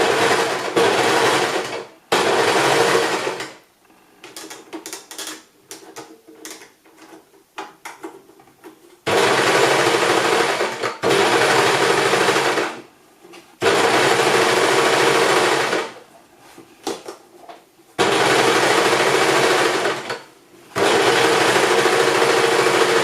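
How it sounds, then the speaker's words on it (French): Overlocker serger sewing the collar of a beach dress, running in several loud whirring bursts of a few seconds each, with quieter fabric handling and clicks in the gaps. "je vais aussi passer le col à la surjeteuse"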